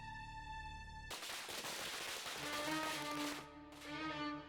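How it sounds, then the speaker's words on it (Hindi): A dense burst of firecrackers goes off in rapid crackling volleys, loud and continuous for a few seconds, with tonal music playing before and after the bangs. "तुम भी पटाखे जलाओ"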